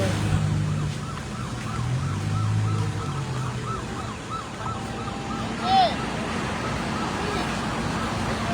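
A fire truck siren wails in the distance beneath traffic noise and people talking nearby, at a large industrial fire.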